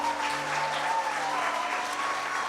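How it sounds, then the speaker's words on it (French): A crowd at a Christmas concert applauds steadily and warmly, a dense wash of clapping holding the same level throughout. "Est-ce qu'on peut les remercier par un temps d'applaudissement?"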